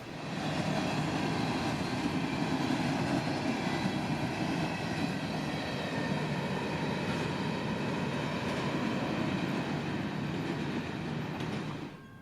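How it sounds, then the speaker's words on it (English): Combined empty coal trains EO13 and EO40 running as one consist through Folkston, Georgia; a long, steady rumble of rolling freight cars with faint wheel clatter, sustained and moderately distant throughout. "An empty coal train out of Jacksonville and another empty coal train out of Orlando, all in the same consist"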